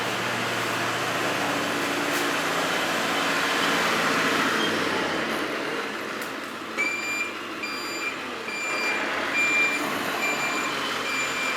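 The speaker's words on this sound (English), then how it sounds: "my neighbour, of course, is driving by now" A truck rumbles past nearby, loud at first and then fading, followed by a string of high, evenly spaced reversing beeps from a vehicle, with a low engine hum underneath and no talking.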